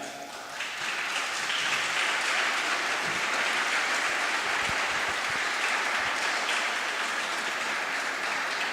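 An audience at a talk in Valparaíso in 2016 breaks into sustained applause, a dense, even clatter of many hands clapping that starts abruptly and carries on at full strength, with no speech over it.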